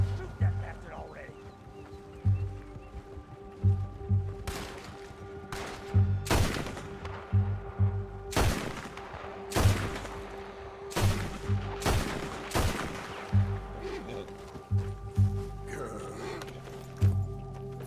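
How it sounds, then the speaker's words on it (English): Gunfire in the video game Red Dead Redemption 2: a string of sharp shots cracking out at irregular intervals over a low in-game background, with a voice talking in between. "Shoot that bastard already!"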